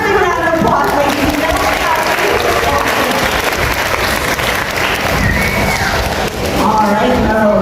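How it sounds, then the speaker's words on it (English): An audience claps and cheers for a sea lion at an aquarium show at Sea Life Mooloolaba, steady sustained applause from a crowd, loud and continuous with a presenter's voice over it. "give her a big round of applause"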